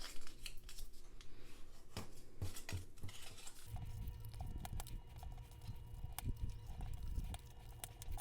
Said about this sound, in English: run your bone folder over each of them.